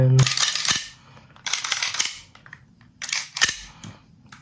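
A Tokyo Marui Hi-Capa 5.1 airsoft pistol test-fired after cleaning gives three sharp snapping shots with slide clatter, spaced about 1.5 seconds apart, close and clear.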